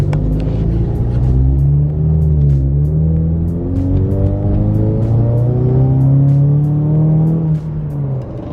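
A Ford Mustang EcoBoost engine droning steadily and loudly, pitch rising and falling as it accelerates past nearby, with the sound dropping off near the end.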